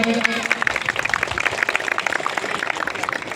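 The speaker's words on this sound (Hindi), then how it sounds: "एक जोरदार ताली बजाएं" Crowd applauding at a Birsa Munda birth anniversary rally in West Bengal, a steady dense patter of clapping that stays loud and even throughout, with no talk over it.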